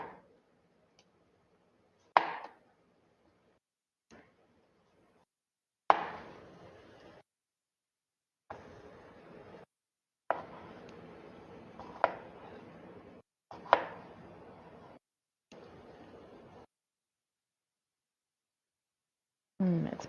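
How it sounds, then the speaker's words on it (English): A knife slices and dices fresh cucumber on a board in sparse bursts of sharp chopping, each followed by brief scraping, separated by silent pauses; close and quiet, with no talking. "And I'll just cut it into some slices and then I will get it diced up."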